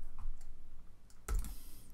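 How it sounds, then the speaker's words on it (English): Quick clicks of a computer keyboard being typed on, faint scattered taps early then a louder burst of keystrokes, close by. "as I start to type"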